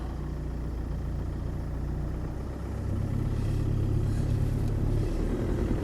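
Land Rover Defender 110 300Tdi diesel engine running steadily, a close, constant low rumble with a slight rise in level partway through, no voices.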